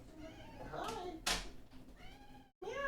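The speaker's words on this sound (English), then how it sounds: "my cat's trying to come inside" A house cat meows several times at a door, wanting to be let inside. The short, rising cries come close by over a quiet room, and a person speaks between them.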